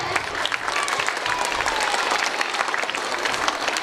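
An audience in a school hall claps to welcome the school principal, a dense, steady burst of many hands held at an even level throughout, with a faint murmur of voices underneath.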